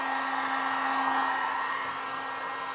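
A heat gun blows steadily on 40-year-old motorcycle plastics, a constant close airflow hiss with a fixed motor hum, unbroken for the whole moment.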